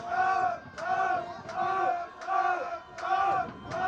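Home supporters' cheering squad chanting at a Bhutan Premier League football match, PARO FC against Thimphu City FC, rhythmic crowd chants rising and falling in regular phrases, loud and sustained.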